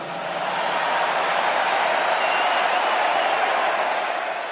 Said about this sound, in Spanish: Estas palabras, como hemos podido escuchar, provocaron una cerrada ovación en el público